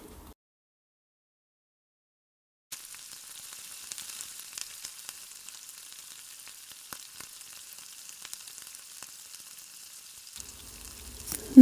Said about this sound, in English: I'm going to start the onions off with a bit of olive oil.